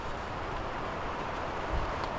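Strong wind roars at a night campsite on Kabaragala mountain, a close, steady broadband rush with no voices.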